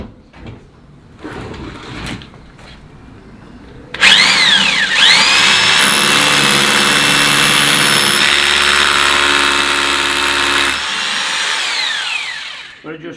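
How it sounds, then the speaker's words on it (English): A loud hammer drill drilling into a wooden door frame whines steadily for several seconds, rising and falling in pitch, after some quieter handling noises. "it's time for the hammer drill."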